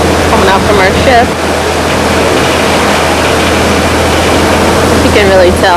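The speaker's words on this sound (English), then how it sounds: "The water coming out from our ship." Water gushes out from a ship on an Alaska voyage, a loud, steady rushing roar close by, with faint squeals and engine hum underneath.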